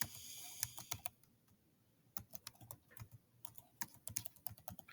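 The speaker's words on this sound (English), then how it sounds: "you're going to type in" Fingers tap away at a computer keyboard in quiet bursts of close, crisp key clicks, with a short pause between flurries.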